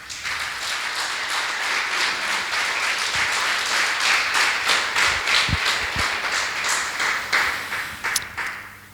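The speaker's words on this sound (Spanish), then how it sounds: "Un aplauso al Señor." A church congregation applauds together in a sustained round of clapping, a dense, even patter with a few sharper taps standing out, filling the room without talk.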